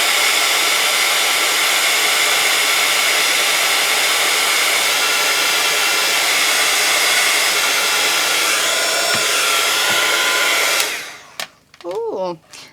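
A heat tool blows hot air steadily onto Foamiran foam flowers, a loud continuous whooshing roar lasting about eleven seconds before it cuts off abruptly, followed by brief faint handling sounds.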